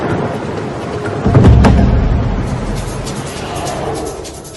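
Thunder rumbles and cracks through heavy rain in a storm, a loud close boom rising midway and then slowly fading under the steady hiss of rainfall.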